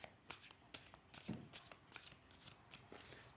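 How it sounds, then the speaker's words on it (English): Tarot cards riffled and shuffled by hand in a quick, repeated series of crisp papery bursts, close and fairly quiet, with no voice. "The cards have been very well shuffled, but I'll just give them a little bit more."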